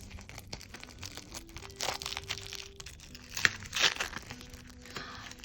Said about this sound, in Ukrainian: Пакетик ми відкриваємо такий блискучий, дуже класний.